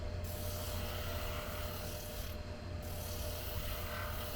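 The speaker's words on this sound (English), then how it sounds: "I just want to sand that top edge" Sanding the top edge of a leather business card wallet, a continuous close rasping rub that holds steady throughout, with one brief pause in the middle.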